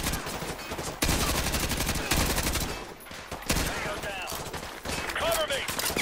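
Heavy automatic gunfire in Modern Warfare 2 Remastered, dense rattling bursts and overlapping shots filling the whole stretch, loud and close with brief lulls between volleys.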